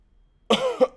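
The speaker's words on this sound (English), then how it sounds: "excuse me, can't quit coughing." A single sharp cough bursts out close by after a moment of silence, followed by a second short cough.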